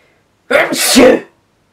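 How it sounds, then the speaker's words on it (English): A single loud sneeze close to the microphone, preceded by a quick sharp intake of breath, then silence. "I've got to sneeze"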